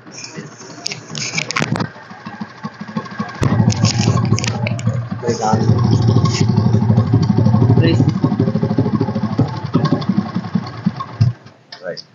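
A 2014-model motorcycle engine idles with a steady low rumble, close and loud, after some handling noises at the start.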